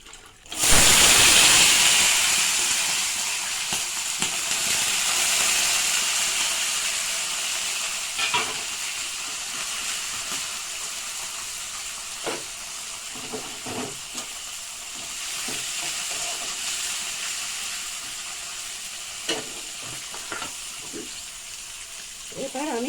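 Soaked chickpeas go into hot oil already tempered with cumin seeds. A sudden loud burst of sizzling settles into steady frying, broken by scattered clinks and scrapes of stirring, all close by.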